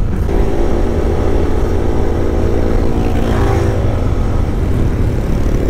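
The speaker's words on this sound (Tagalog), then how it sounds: "Nabibigatan yata sa atin yung motor natin guys." Sniper 155R motorcycle climbing a steep road toward Kaybiang Tunnel, its engine laboring under load as a steady, loud, close drone with slight pitch rise, accompanied by wind rush and no talk.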